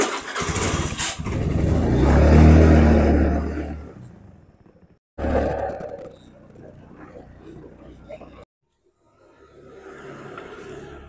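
A motorcycle engine revs and sputters, cutting out and restarting, with a voice speaking over it at times.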